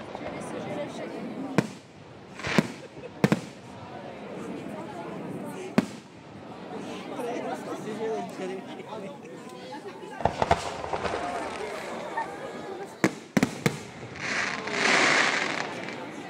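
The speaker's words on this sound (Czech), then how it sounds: "vlastní oslavy vyvrcholily velkolepým ohňostrojem" A fireworks display caps a village celebration organised by the local fire brigade, with sharp bangs and crackling bursts repeating irregularly over a crowd murmur and continuous talk.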